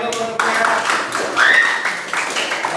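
A group of students in a coding and AI classroom lesson clap their hands together in a brief burst, with voices talking over the clapping.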